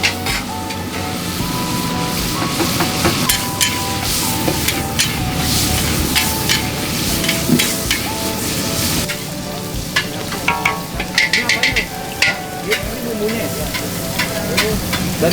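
Aceh noodles stir-fried in a wok, with a steady, loud sizzle and the clatter of a spatula scraping and tossing throughout, close by, with no talking.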